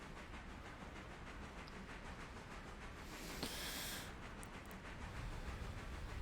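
Passenger train running in the Railroader video game, a faint steady rumble and hiss of rolling wheels with a brief brighter steam burst midway, continuous and without talking.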